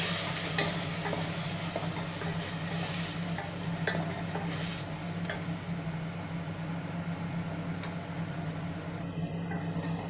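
Sliced onions fry and are stirred in a pan for a chicken curry, a steady sizzle broken by repeated scraping strokes of the spoon, close and alone.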